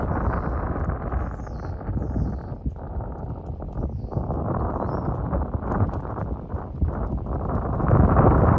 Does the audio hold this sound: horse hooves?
yes